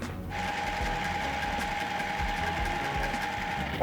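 Sewing machine stitching a seam in Minky fabric: a steady, close mechanical whir with a fast, even rattle running throughout, no voices.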